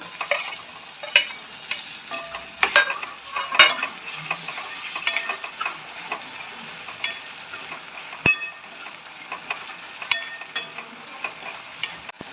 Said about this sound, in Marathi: बारीक चिरलेला टमॅटो टाकून घेऊ